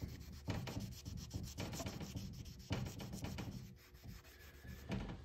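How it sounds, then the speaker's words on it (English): An alcohol wipe rubbed over the crazed glaze of an antique Atcheson stoneware pickle crock, a steady close scrubbing swish in repeated strokes, alone without speech. "I've taken a general alcohol wipe, which looks like that. And I've just rubbed on it"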